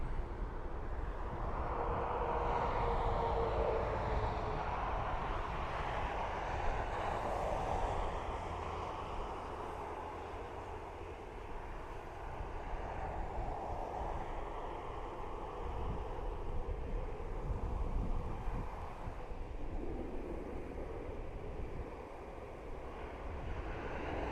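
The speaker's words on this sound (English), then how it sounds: "So this is Aer Lingus off to Split" Aer Lingus airliner departing Dublin Airport for Split, a broad, sustained jet roar from a distance that swells and eases slightly over the whole span, with no talk.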